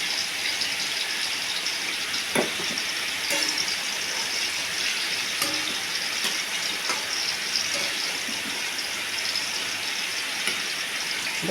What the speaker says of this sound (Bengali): বেগুনটাকে ভেজে নিলাম, এবার একটুখানি বেগুনটাকে এরকমভাবে ভেজে নিয়ে তুলে নেব